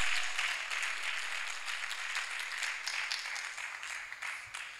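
A church congregation applauding during a prayer service, sustained crowd clapping with a bright, even texture that swells slightly and then eases off, heard alone without speech.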